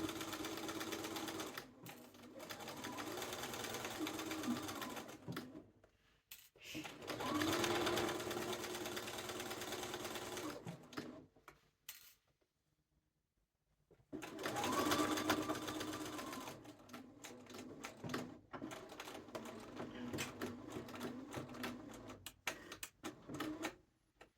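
A sewing machine with a 3 mm stitch length sews a cuff onto the sleeve of a duster coat through several fabric layers, running in long, close, steady whirring bursts separated by short pauses.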